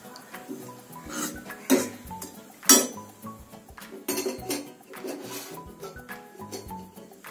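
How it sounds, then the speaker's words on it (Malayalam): Homemade herbal hair oil strained through a sieve into a vessel, with scattered metallic clinks and scrapes of utensils against the sieve and pot, a few sharp louder knocks among softer rubbing sounds. "ഇനി ഇത് ഒരു അരിപ്പ വെച്ച് നന്ന് അരിച്ചെടുക്കണം"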